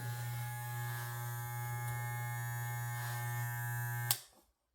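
An Andis T-Outliner electric hair trimmer runs close up with a steady loud mains-frequency buzz and a bright whine, then cuts off abruptly near the end; no one talks.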